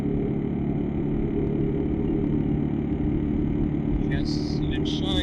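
A KLR 650 motorcycle cruising on a highway at roughly 4,500 rpm, its steady engine drone loud and continuous throughout with strong wind rush, a few brief higher-pitched noises near the end.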